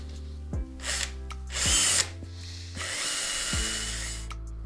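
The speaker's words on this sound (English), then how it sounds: "I'm going to start the holes with the brad point here to keep everything nice and accurate" A power drill fitted with a brad point bit bores holes through a wooden drill guide block into a tabletop, with several loud bursts of whirring drilling between pauses where the motor spins up and winds down.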